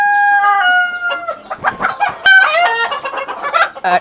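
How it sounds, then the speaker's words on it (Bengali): Police cap and European silkie chickens on a fancy poultry farm: loud, close clucking and cackling with a crow-like call, several birds overlapping in busy bursts. "আমরা পাশে মনে হচ্ছে সিল্কি মুরগি দেখতে পাচ্ছি"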